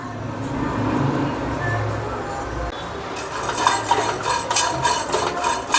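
Sunflower seeds dry roasting in a pan, with steady stirring and scraping that clinks against the metal. Background sounds fill the first half, then brighter rattling scrapes come close and continuous near the end.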